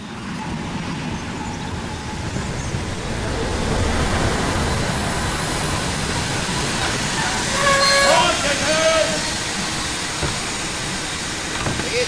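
A train rumbles steadily nearby, swelling louder midway with a faint metallic squeal, while people talk over it.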